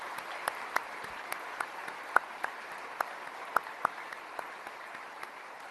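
An audience at a military change of command ceremony gives a family a round of applause, heard as a quiet, fairly distant patter of scattered claps with a few sharper individual claps standing out.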